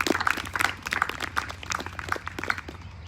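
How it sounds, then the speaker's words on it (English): Applause from a school assembly audience for a scholarship winner, a scattered, fairly faint patter of individual claps rather than a dense roar. "We can just give Shivan a round of applause"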